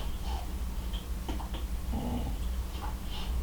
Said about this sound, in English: Speaking of the dogs.